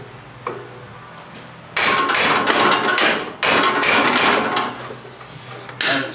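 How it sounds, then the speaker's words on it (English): Rapid metallic hammer strikes drive a roll pin into the steering of a 1984–85 Wheel Horse garden tractor, delivered in quick close bursts after a single opening tap, loud and without speech. "Get a hammer."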